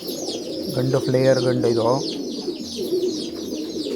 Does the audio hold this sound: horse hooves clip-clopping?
no